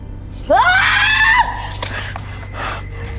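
A single loud, rising human scream meant to summon a spirit cuts in suddenly, holds for about a second and then stops, followed by quiet room noise and faint breaths.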